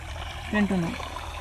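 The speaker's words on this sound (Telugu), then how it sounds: "ఈడ మంచిగా నీళ్ళు బోరు పోస్తుంది" Water pours steadily from a borewell pump outdoors, a continuous rushing wash with someone talking briefly over it.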